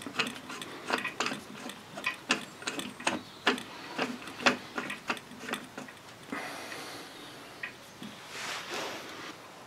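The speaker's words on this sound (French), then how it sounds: "je vais dans le sens inverse des aiguilles d'une montre pour serrer" A wrench tightening the fitting of a gas torch on a bottle, giving a quick run of sharp metallic ratcheting clicks that later gives way to softer handling noises, close up and without talk.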